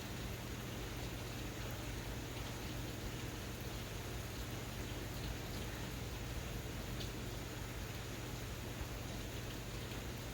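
Steady rain falling outdoors near tubs and a large tank, a soft, even wash of noise throughout with no other sounds, fairly faint.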